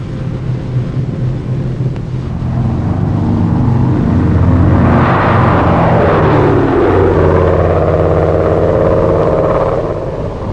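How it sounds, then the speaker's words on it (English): A C-47 transport plane lands on an emergency airstrip, its propeller engine roar swelling loud and steady, then shifting pitch as it passes close, with wind buffeting throughout. "C-47s landed at emergency strips, bringing American and Chinese specialists who were to supervise the reconstruction."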